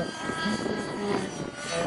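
Aerobatic model helicopter flying full-axis maneuvers such as inverted flight and flips, a steady continuous rotor and engine drone with harmonic whine, fairly loud and unbroken with no talk.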